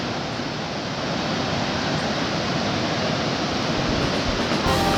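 Water rushes over the weir at Teddington in a loud, unbroken roar, dense and steady from start to finish, with no voices.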